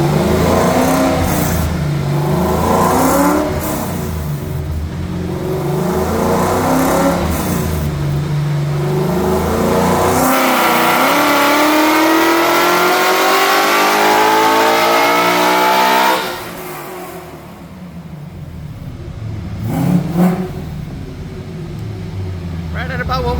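A 900+ horsepower Fox Body Mustang screams through a dyno pull, its engine revving up and up loudly at close range before cutting off, with people talking around it.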